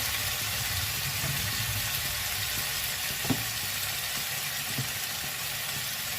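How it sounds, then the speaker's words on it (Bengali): Fenugreek greens and potatoes fry in a pan with a steady, moderately loud sizzle, broken by a couple of brief knocks near the end. "মেথি শাক দিয়ে আলু ভাজা, মেথি শাক ভাজা হবে।"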